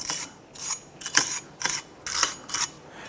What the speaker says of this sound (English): So just clean up the face of the hub